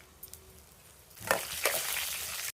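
Cumin, mustard seeds, peanuts, chana dal, urad dal and dried red chillies hit hot oil in a kadai, starting quiet and then bursting into a loud, steady sizzle halfway through.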